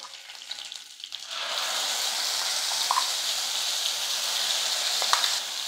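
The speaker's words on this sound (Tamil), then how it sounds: "அரைச்ச சட்னி வந்து இந்த எண்ணெயில் வந்து சேர்த்துக்கலாம்." After a few soft clinks, freshly ground spicy chutney hits hot oil and bursts into a loud, continuous sizzle that crackles on steadily.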